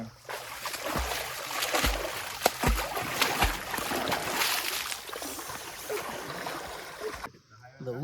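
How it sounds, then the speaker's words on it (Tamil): Spring water pours steadily from a pipe on a hillside about 2500 feet up, a continuous splashing gush with a few dull thumps early on. People talk over it. "இந்த ஊற்று தண்ணியை பாருங்கள், பீலி இதுக்குள்ளே தான் வருது"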